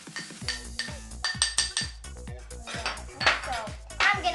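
A wire whisk beats carrot cake batter in a bowl, producing a run of sharp, rhythmic metallic clinks and scrapes, close and fairly loud, with no talk.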